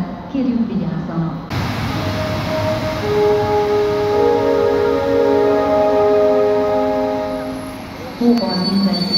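An Intercity train pulls into a platform at Székesfehérvár station, wheels squealing in long sustained tones over a rumbling rail noise, with a station announcement voice heard around it.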